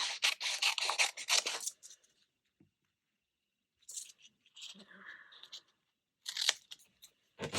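Scissors cutting reusable transfer tape for glass etching, crisp close snipping bursts at the start, middle and end, alone with quiet gaps.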